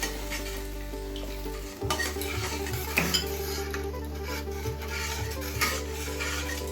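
Spices and sour yogurt are stir-fried over a lowered gas flame for hilsa biryani, a steady close sizzle mixed with a spoon scraping the pot and occasional metallic clinks. A low hum stops partway through.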